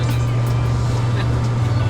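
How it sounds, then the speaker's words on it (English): Engine of a Nissan Sunny pickup truck (Datsun 1200) running steadily while driving, a constant low drone with road rumble that holds at an even level throughout, with no talking over it. "I've actually got the car that makes the noises."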